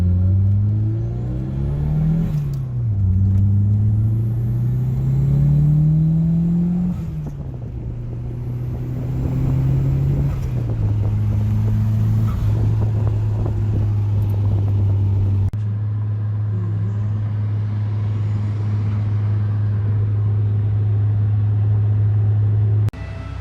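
An Eagle Talon car driving, its engine droning steadily and revving up through gear changes, close and loud from inside the car with road rumble beneath, no talking.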